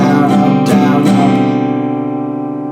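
Acoustic guitar strummed in the pattern for a song, a few sharp strokes ringing out into a sustained chord that slowly fades, played alone and up close.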